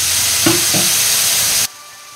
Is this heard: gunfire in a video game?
no